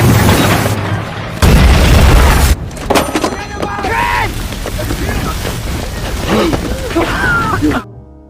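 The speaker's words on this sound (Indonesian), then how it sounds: "Rem mobil tersebut mengalami blong dan menabrak pembatas trek kemudian meledak." A film scene in which a race car with failed brakes slams into a track barrier and explodes: loud booming impacts and a roaring blast, followed by crackling debris, hissing fire and scattered clatter, with voices mixed in.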